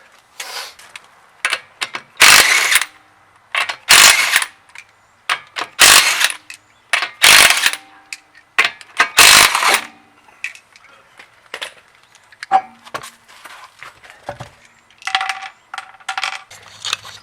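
A ratchet loosening the wheel on a Honda S2000, bursts of loud close metallic clicking and clattering in several rapid runs with short pauses, followed by lighter scattered taps and clinks, no talking.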